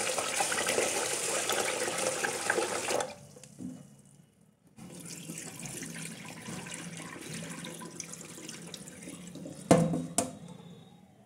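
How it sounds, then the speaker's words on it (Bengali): Rice being rinsed in water in a kitchen, with a steady rush of running tap water and splashing that drops out briefly partway through, then resumes with a few louder sloshes near the end. "এবার চালটা ধুয়ে নেব"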